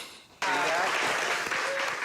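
Studio audience applause bursts in suddenly after a quiet moment, a full, dense wash of clapping that stays loud and even to the end.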